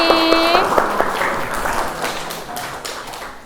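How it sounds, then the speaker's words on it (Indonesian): Scattered clapping from a school class, a brief round of applause that thins out and fades over a few seconds, with a steady background tone. "Oke, tepuk tangan untuk kelas ini."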